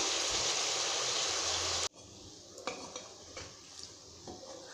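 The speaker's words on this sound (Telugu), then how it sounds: "స్టవ్ సిమ్లో పెట్టుకుని అప్పుడప్పుడు తిప్పుతూ వేయించుకుందాం" Chicken pieces for chicken pickle fry in a pan over low heat, a steady sizzle giving way to quieter crackling with a few scattered clinks of the stirring spoon against the pan.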